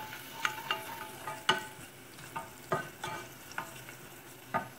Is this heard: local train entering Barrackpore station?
no